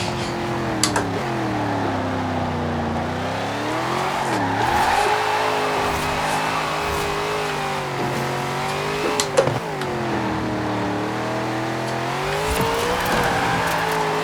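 A car drifts in Forza Horizon 4, its engine droning and swelling while tires squeal and slide through long controlled arcs, with a few sharp revs and bumps along the way.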